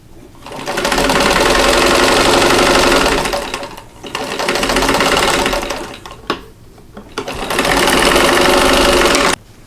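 A sewing machine stitches two quilt block units together, a red and white four-patch and a pink and yellow half-square triangle, running loud and close in three steady bursts with short pauses between.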